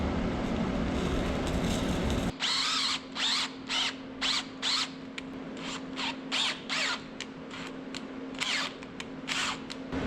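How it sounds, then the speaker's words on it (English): A power drill bores a hole in a cut piece of 5/8 bolt, running in a string of short, repeated whirring bursts with brief pauses over a steady background hum, close and moderately loud. "so I cut us a piece of bolt, drilled a hole"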